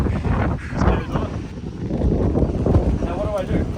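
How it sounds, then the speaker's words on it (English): Steady, gusting wind buffets the microphone at an open scenic viewpoint in South East Asia. Voices talk faintly beneath the rushing noise throughout. "Wind noises."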